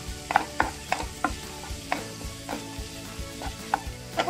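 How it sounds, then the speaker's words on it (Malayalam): Chicken and capsicum filling stirred in a pan, with repeated scraping taps of a spoon against the pan and a low sizzle between strokes, heard alone up close. "നന്നായിട്ടൊന്ന് മിക്സ് ചെയ്ത് കൊടുക്കാം"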